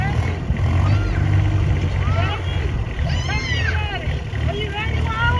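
A big farm tractor's engine runs with a steady, loud low rumble throughout, while voices talk and call out over it.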